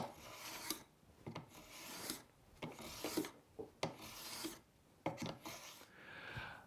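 A hand plane shaves wood on a simple sandwich-style taper jig, making a series of close, rasping strokes about once per second, each a brief scraping swoosh with quiet pauses between.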